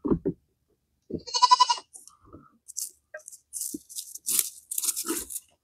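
Goats on a farm bleat in several short, loud calls, some with a nasal tonal quality, mixed with crunching and chewing noises and scattered rustling.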